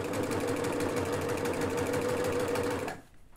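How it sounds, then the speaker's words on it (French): Overlocker stitching elastic onto fabric, a fast steady mechanical whirr running close and loud for about three seconds before stopping abruptly. "On va entamer la couture à la surjeteuse."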